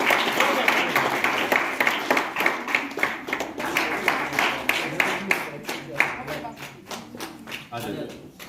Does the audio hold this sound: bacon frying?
no